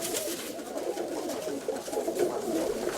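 Pigeons coo steadily and softly at close range, a continuous low murmuring with no talk over it.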